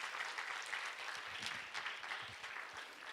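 A church congregation at a Wednesday prayer service applauds two middle school students with steady, fairly faint clapping throughout, and a few low voices murmur underneath.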